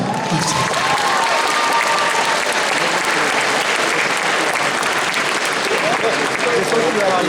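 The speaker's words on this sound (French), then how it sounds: "On applaudit cette magnifique descente" Sustained applause from an audience greets the jury's entrance at the Necronomicon 2022 cosplay contest, a dense steady wash of clapping filling the whole stretch, with faint voices and whistle-like tones mixed into the crowd.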